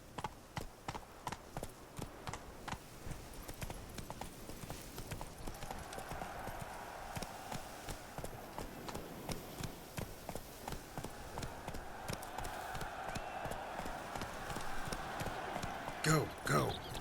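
Roach the horse gallops in The Witcher 3: Blood and Wine, a quick, even run of hoofbeats across the ground at moderate distance, with a voice briefly urging the horse on over it.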